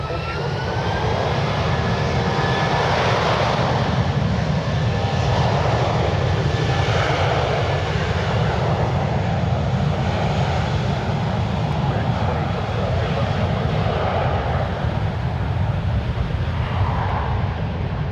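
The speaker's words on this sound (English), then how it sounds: "departing now, we got United 1763 headed to Austin, Texas. Airbus A319." A United Airlines Airbus A319 jet departs San Francisco International Airport, its engines giving a loud, steady roar that holds throughout with a broad whine on top, and faint radio chatter underneath.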